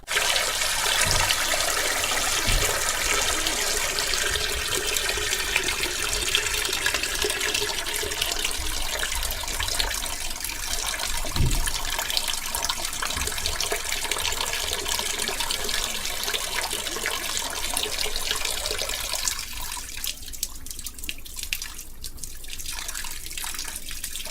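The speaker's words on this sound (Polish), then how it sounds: "Przed chwilą usłyszeliśmy dźwięk kapiącej wody w umywalni." Water drips and trickles in a washroom sink, a steady run of small taps and splashes over a faint hiss, with the flow changing near the end; no voices.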